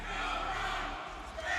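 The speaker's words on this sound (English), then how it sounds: "Here, the crowd getting behind Rod" A crowd at a mixed martial arts fight cheers in a steady, dense roar that holds at full strength through the whole stretch, with no single voice standing out.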